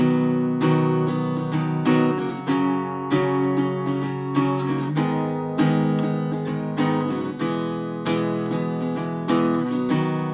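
Steady strummed guitar plays the bridge of a song in a cover version, repeated chord strokes ringing close and loud throughout without any voice.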